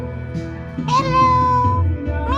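A cat meows loudly and close by, one long drawn-out call with a rising start, alone and clear with no talk over it.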